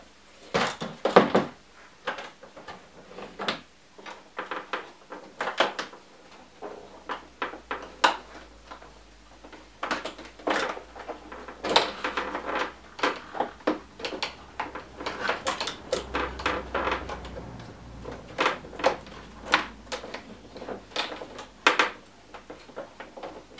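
Bikesplast fairings being fitted to a Yamaha R with D-Zus fasteners: a series of sharp plastic clicks, taps and knocks at irregular intervals, close and fairly loud, with no talking.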